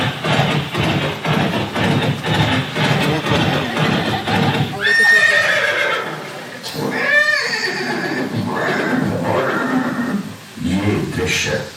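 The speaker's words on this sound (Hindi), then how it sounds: "महाराणा प्रताप और सुविख्यात स्वामी भक्त घोड़े चोटक के अंतिम मिलन का है।" A horse gives two loud, rising whinnies with some hoof clip-clop, while a voice narrates over and between them.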